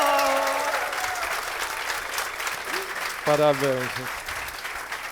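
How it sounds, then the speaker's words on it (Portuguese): An audience applauds a chef at the MESA Ao Vivo Paraíba 2025 event, a sustained wash of clapping from a crowd while a voice speaks briefly over it and another voice joins near the end. "primeiro uma salva de palmas para esse cara maravilhoso."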